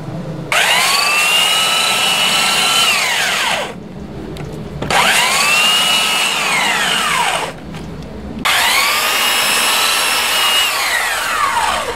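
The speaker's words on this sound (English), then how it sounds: "Still want to get our belt sander and run over these edges now." A belt sander runs lightly over the edges of a laminate countertop in three bursts, each spinning up to a steady whine and winding down between passes, loud and close with no talking.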